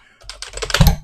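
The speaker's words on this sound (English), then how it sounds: "you want to go up here practically and type in" Quick typing on a computer keyboard, a short close burst of about a dozen rapid clicking keystrokes that grow slightly louder toward the end.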